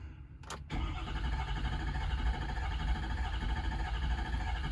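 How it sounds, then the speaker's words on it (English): A Ford 6.7 Powerstroke diesel engine with a knock cranks over. A brief click is followed by a steady, continuous starter churn that is loud and close, with no voices. "Get a good couple of cranks in it."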